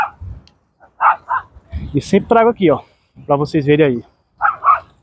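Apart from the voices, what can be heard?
dogs barking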